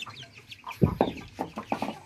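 Hens let out of their coop to feed give a run of loud, clipped clucks close up, several in quick succession with brief pauses between.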